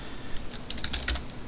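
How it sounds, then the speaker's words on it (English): Quick typing on a computer keyboard, a short irregular burst of key clicks close to the microphone, heard alone without speech. "don't mind this, I just hit the keyboard"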